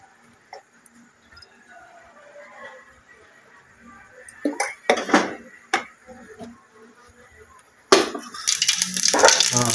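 Oil goes into a hot cooking pot set on the heat for jackfruit bhaji, starting quiet with faint clinks, then a few loud bursts and a rising broad sizzle near the end.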